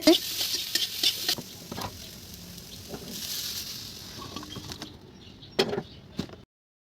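Soft sizzling of soya chunks frying in oil in a wok, with intermittent scraping and clattering as they're stirred, close by; ends in silence.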